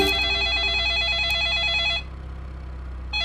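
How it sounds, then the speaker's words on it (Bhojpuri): A telephone rings indoors in a Bhojpuri drama scene with a steady, warbling electronic trill for about two seconds. It pauses briefly in a low hum, then starts ringing again just before the end. "जीजा जी का फोन उठाए बात करें"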